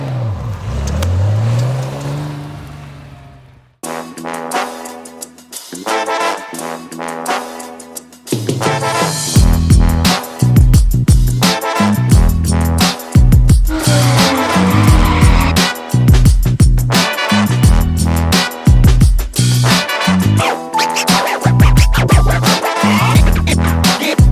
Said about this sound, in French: Il y a Magnus Walker qui me laisse conduire sa fameuse Porsche